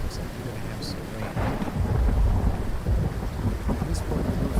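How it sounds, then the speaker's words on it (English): Rain and rolling thunder in the survival video game The Infected, a steady wash of rainfall with a deep rumble swelling midway and lingering, plus a couple of faint high ticks. "looks like we're going to have some rain"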